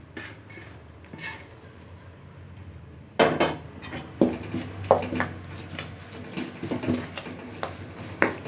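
Spices and curry leaves are dropped into hot oil in a pan, a quiet hiss that turns into clattering stirring and scraping of a utensil against the pot, with irregular metallic knocks throughout.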